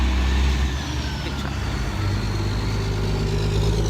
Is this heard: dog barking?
no